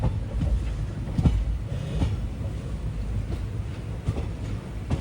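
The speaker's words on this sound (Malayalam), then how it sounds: "സെങ്കോട്ടൈ താമ്പര എക്സ്പ്രസ് ഉണ്ട്. അതാണ് ഈ കാണുന്നത്." The Sengottai Tambaram Express rolls along the rails with a steady rumbling drone and intermittent wheel clicks and clanks over track joints, heard from nearby.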